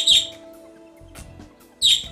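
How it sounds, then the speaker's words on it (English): A pet bird gives two bright, sharp chirps, one at the start and one near the end, with a faint low hum between them. "My bird says hello."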